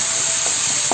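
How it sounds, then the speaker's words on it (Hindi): Chopped onions sautéing in a pan, giving a steady close hiss and sizzle with faint stirring scrapes, no voices. "जब तक ये प्याज का कच्चापन चला नहीं जाता तब तक हम इसे सौते करेंगे"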